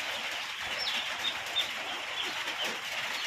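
Small birds chirp in short, high, repeated peeps over a steady hiss of background noise, a few bright calls standing out at moderate distance. No one speaks.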